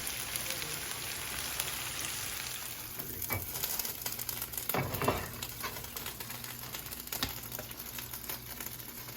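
Oklahoma onion burgers sizzle on a hot griddle in an RV kitchen, a continuous soft crackling hiss like light rain with a few louder spatters and scrapes in the middle.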